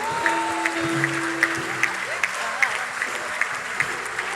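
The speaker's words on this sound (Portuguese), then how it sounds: "Vamos aplaudir a Ele." A church congregation applauds steadily at a Portuguese-language worship service, with sustained dense clapping, a few sharper claps standing out, and some voices and a held tone underneath.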